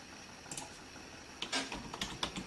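Keys clatter on a keyboard plugged into an Android mini PC: scattered clicks, then a quicker burst of typing, close and clear with no voices.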